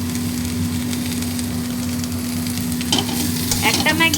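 Boiled maize tipped into a hot pan with Maggi noodles, loud frying sizzle throughout with stirring scrapes and clatter building toward the end, no voices.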